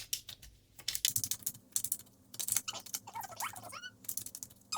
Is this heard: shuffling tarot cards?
yes